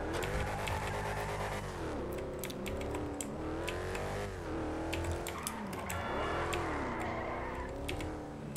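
A fast car in GTA 5 drives on, its engine note rising and falling steadily, mixed with layered game sounds and faint clicking throughout.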